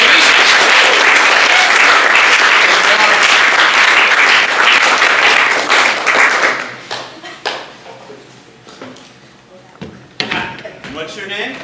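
Loud, dense audience applause for several seconds, then thinning into scattered claps and a few voices before a last burst of clapping.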